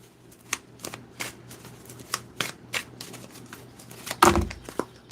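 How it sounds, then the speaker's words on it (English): A tarot deck being shuffled by hand, giving a run of crisp, close riffling bursts at an uneven rhythm that ends in one louder, fuller riffle near the close, with no talk over it. "These cards are so hard to shuffle."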